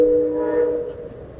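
A train runs through a tunnel, producing a loud, sustained tonal drone with resonant hum that fades after about a second into quieter rumble.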